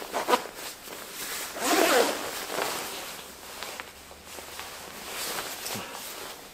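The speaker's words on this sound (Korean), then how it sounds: "지퍼를 올리고" A zipper on a Puma Ultra 3 Shield goose down jacket is pulled up in a couple of quick rasping runs, close and fairly quiet, with soft fabric rustling between them and no talking.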